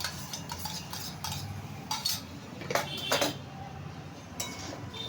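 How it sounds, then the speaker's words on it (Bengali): Beaten yogurt goes into a spice mix in a pan, with close clinks and scrapes of a spoon against the pan over steady background noise. "এই দইটা আমি মশলাটায় দিয়ে দিচ্ছি"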